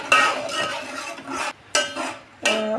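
Metal spoon stirring a spice masala and ground tomato in a pan: repeated scraping and clinking against the metal in short bursts, close by and fairly loud, with no talking.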